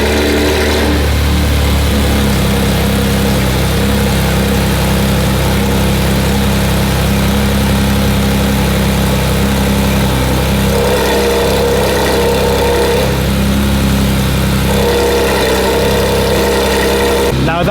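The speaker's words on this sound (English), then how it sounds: "First start on the full titanium Valvetronic exhaust on the 992 GT3RS." A Porsche 992 GT3 RS with a full titanium Valvetronic exhaust rumbles steadily at idle after its first start, deep and loud, with slight shifts in tone as it settles.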